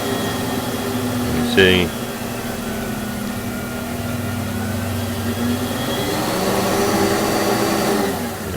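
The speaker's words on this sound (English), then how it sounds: "That turns on the light and turns on my shop vac." A shop vac attached to a Harbor Freight blast cabinet with a dust deputy runs steadily nearby, a constant loud motor drone while a person talks over it.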